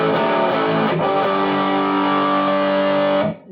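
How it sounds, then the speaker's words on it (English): Electric guitar through an MXR Custom Badass '78 Distortion pedal with the gain cranked, a single loud sustained distorted chord ringing out for about three seconds before cutting off abruptly. "drive that gain. Get the distortion all the way"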